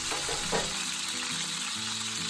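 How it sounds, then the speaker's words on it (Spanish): The fat side of a beef eye round sears in hot oil in a skillet over medium-high heat, giving a loud, continuous crackling sizzle. "Comenzamos dorando siempre la parte de la grasa primero"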